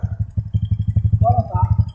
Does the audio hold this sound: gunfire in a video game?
no